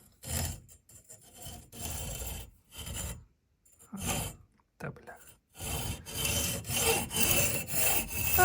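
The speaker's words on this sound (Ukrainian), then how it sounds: "Так, Ріжу карбон ножовкою," Hacksaw strokes rasp back and forth through stiff carbon fiber in a steady rhythm, with a few short pauses between runs of cutting, close and loud.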